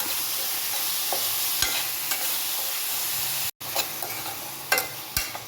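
Onions and tomatoes frying in a pan for chicken curry, stirred with a spoon: a steady close sizzle with several sharp scraping clicks from the utensil, and one brief dropout midway.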